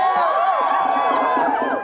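A big outdoor crowd at the I Love Mountains Day rally cheers and whoops loudly and continuously, with many overlapping voices shouting together.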